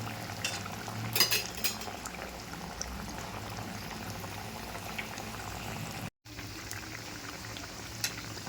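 Sabudana vadas deep-fry in hot oil, giving a steady, low bubbling hiss that runs throughout at moderate volume with a few faint clinks. No one speaks.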